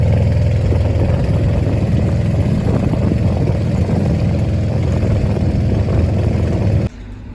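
A newly installed engine on a small boat crossing the water near Mangla Dam runs with a loud, steady drone that continues without a break, then drops off sharply at the very end.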